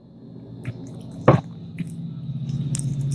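A person takes a swig of water, with a sharp gulping swallow and small wet mouth sounds against quiet room noise, no talking.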